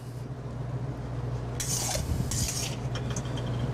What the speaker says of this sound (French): Je dresse mon linguini.